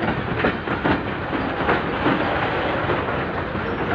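Pakistan Railway train running steadily on its tracks, a continuous loud rumble of wheels and carriage noise with rhythmic clickety-clack throughout.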